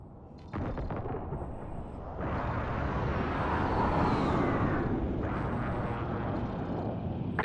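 Airstrike explosions from the video game Call of Duty: Modern Warfare erupt after a short pause, swelling into a long, loud rumbling blast with an aircraft roar that holds and slowly fades.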